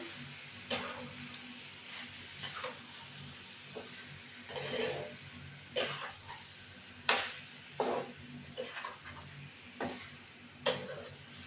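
Eggs sauté in a pan with fried spices, giving a soft steady sizzle. A spatula stirs and scrapes at intervals, with sharp irregular clacks over the sizzle and no talking.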